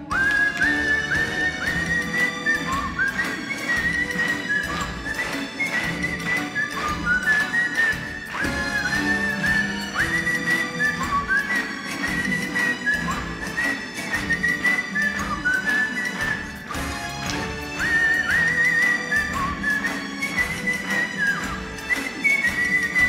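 A man whistles a clear melody over instrumental accompaniment. The bright tune runs steadily and loudly for the whole stretch, with no speech.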